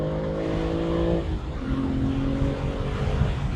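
A BMW G80 M3 manual's S58 engine drones steadily and loudly, its tone shifting as it shifts gear and climbs in pitch, heard from inside the vehicle.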